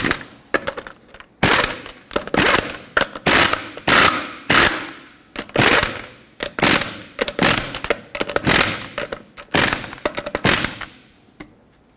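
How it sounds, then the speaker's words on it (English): A ratchet tightens lug nuts on the front wheel of a 1995-2004 Toyota Tacoma 2WD, making about a dozen loud, close bursts of rapid clicking separated by brief pauses, with no talking. "Start on all 5 of your lug nuts, bottom them out in a cross pattern, and then also in a cross pattern, tighten them to 83 foot-pounds."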